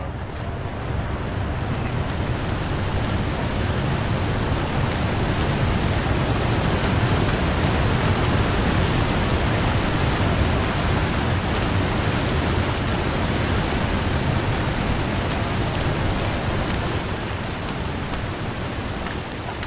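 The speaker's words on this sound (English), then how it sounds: "waterfalls are loud and the new region's full of them." A loud, roaring waterfall in the survival game The Long Dark fills the whole stretch as a dense, steady rush of water that never lets up.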